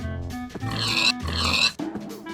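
A video-game pig grunts and oinks in two or three close, nasal snorts, loud and alone.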